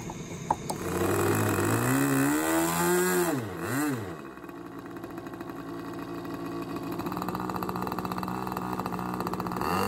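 A Bluehead 6 Super Tech glow engine on a SIG Astro Hog kit-built model airplane runs loud and close, its tone sweeping up and down through throttle changes before settling into a steady high whine.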